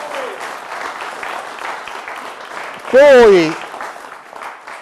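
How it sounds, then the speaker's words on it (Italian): Audience applause for Renata Andreussi of Artegna, a steady wash of clapping for about three seconds before a single voice starts talking over it. "Facciamo un applauso a Renata."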